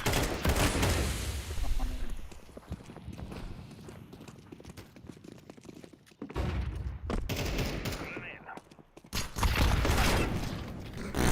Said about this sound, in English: This time I'm gonna throw the high explosive grenade at the enemies.